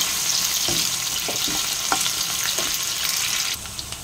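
Small potato pieces frying in a pan give a steady, close sizzle, with occasional soft stirring scrapes and no voices.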